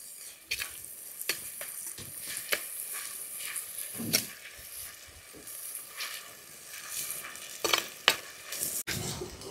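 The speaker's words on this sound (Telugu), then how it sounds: "ఈ అల్లం చిన్నులపాయ ధనియాలు ఏదైతే ఉన్నాయో అది కూడాను పచ్చివాసన పోయే వరకు వేయించుకుందాం" Ginger, small onions and coriander seeds frying in a pan make a quiet crackling sizzle, with irregular scrapes and clicks of stirring scattered throughout and no voices.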